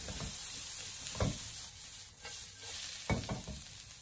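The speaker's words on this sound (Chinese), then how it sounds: "把配菜简单的翻炒几下之后，加少许的食盐进来，增加底味，然后继续的把它翻炒均匀" Vegetables stir-fried with a little salt in a wok, a steady close sizzle broken by a few sharp scraping tosses of the spatula, with no voices.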